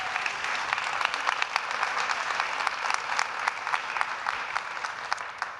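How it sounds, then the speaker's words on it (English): An audience applauds at a gathering against poverty, a dense, steady patter of many hands clapping with sharp individual claps poking through, sustained at even loudness and tapering slightly at the very end. "let's give them a round of applause"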